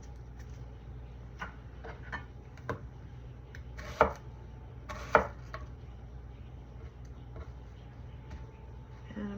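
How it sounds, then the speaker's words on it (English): A knife chops food into small pieces for fried rice in a home kitchen, with quiet, sparse taps on a cutting board and two sharper strikes standing out over a low background hum. "just gonna chop these small-ish pieces"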